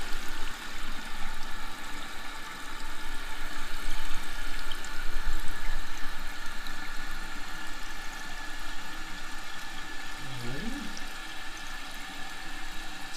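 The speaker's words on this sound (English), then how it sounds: "we're gonna go ahead and turn on the water" A repaired toilet tank refills after the water supply is turned back on, giving a steady close hiss and rush of running water that holds on throughout, with a brief gurgle late on.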